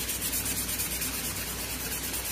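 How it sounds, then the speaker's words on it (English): Steady abrasive rubbing from sanding the limb of a 1961 Bear Kodiak traditional recurve bow, a continuous close hiss with a low background hum and no talk. "what I'm doing is I'm just kind of blending where I sanded by sanding a little bit higher and maybe a little bit lower"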